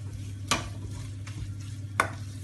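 Egg puff filling with garam masala being stirred in a pan, a soft sizzle under a low steady hum, with two sharp scraping strokes of the spoon against the pan.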